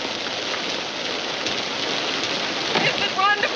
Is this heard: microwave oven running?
no